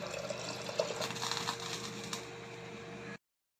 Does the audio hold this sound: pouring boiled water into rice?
yes